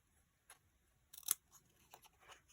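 Scissors trim a piece of cardstock for a handmade greeting card, giving a few quiet, crisp snips in an otherwise still room.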